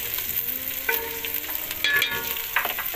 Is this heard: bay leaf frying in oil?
yes